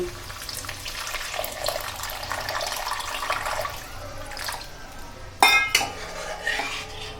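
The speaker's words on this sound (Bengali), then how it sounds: "1 বাটি মতন জল দিয়ে দিচ্ছি" Water is poured from a bowl into a pan of spiced potatoes for a fish curry, a soft running splash with light clinks of metal utensils, followed by a sharper clatter near the end.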